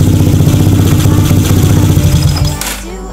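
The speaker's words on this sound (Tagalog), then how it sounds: "Nakita nyo, namatay yung motor natin kasi sinalpak natin yung isang CDI." A motorcycle engine idles loud and close with a steady throbbing beat, then cuts out abruptly near the end after a defective CDI unit is plugged in, leaving near silence.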